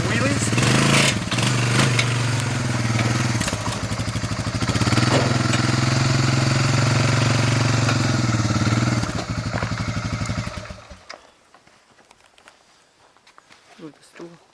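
Engine of a custom full-size Ford F100 Bronco build running loud and steady at close range with a deep low rumble, revving through the first ten seconds before cutting off, with people talking over it.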